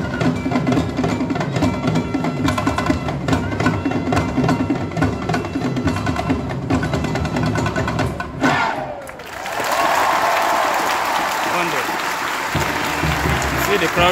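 A large audience at the Royal Edinburgh Military Tattoo applauds and cheers after a Nigerian military performance, a dense roar of clapping that dips briefly and then swells again, with a voice speaking over it.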